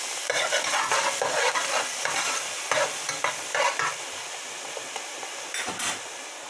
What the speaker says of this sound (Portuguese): refogando o azeite, a cebola e o alho